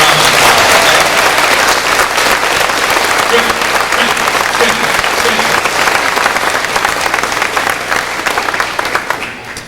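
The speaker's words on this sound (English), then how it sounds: "Let's give him a nice round of applause." A crowd at a 1993 fiddle contest in Govan, Saskatchewan claps loudly for fiddler Trent Bruner, a full, even round of applause that continues throughout and tapers slightly near the end.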